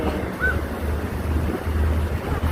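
Sea waves roll in at Gwangalli beach in Korea on a crowded holiday, a steady, washing surf roar blended with wind rumble and no clear voices.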